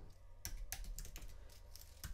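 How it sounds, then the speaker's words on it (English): Fingers tap on a computer keyboard in a quick uneven run of about eight keystrokes, close and soft, alone with no talk. "So I'm going to type"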